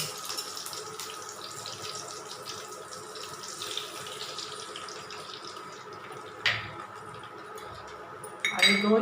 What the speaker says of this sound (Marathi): त्यात थोडंसं पाणी टाकून